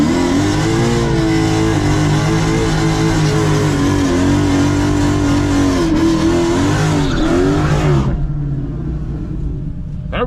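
Apollo race car launching off a two-step and accelerating hard in first gear on an open track, a loud continuous engine roar rising in pitch and then cutting off abruptly near the end, with no talk.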